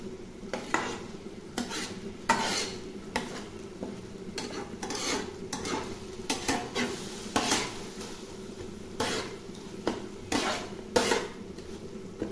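Taro leaves cooking in a wok over a low flame, with a spatula repeatedly scraping and clanking against the metal pan in irregular bursts over a faint, steady sizzle.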